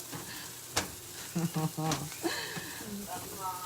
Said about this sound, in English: Fry up onions and garlic here.